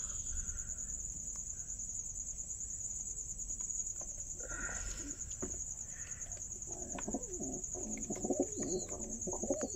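Pigeons coo softly over a constant high-pitched chirring of crickets, with occasional faint rustles nearby.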